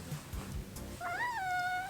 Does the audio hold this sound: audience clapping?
no